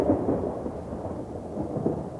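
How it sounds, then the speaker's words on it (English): Thunderstorm in Hong Kong just before a race meeting at the Royal Hong Kong Jockey Club, a steady heavy wash of rain with low rumbling thunder, fairly loud and continuous. "This thunderstorm is happening in Hong Kong, just before a race meeting at the Royal Hong Kong Jockey Club."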